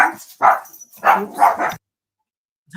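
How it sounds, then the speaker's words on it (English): A dog barks close by, several sharp yaps in quick succession, then a pause and the start of another bark. "Sorry, I have a barking dog."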